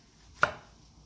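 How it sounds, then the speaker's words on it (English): A single crisp knife cut slices through a tomato on a cutting board, one short close thud in an otherwise quiet kitchen. "I'm just gonna cut slices on my tomato."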